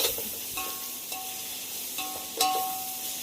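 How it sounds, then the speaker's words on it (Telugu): Mint and coriander frying in hot oil for a village-style chicken biryani, giving a steady close sizzle broken by a few sharper stirring scrapes and clinks against the pot. "పుదీనా కొత్తిమీర కూడా వేసి ఆయిల్లో బాగా ఫ్రై చేసుకోవాలి."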